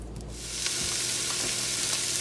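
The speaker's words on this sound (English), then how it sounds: "I thought I would wait till my pan started sizzling" A steady, close hiss of sausage sizzling in a hot frying pan, continuous and even throughout, with no voices.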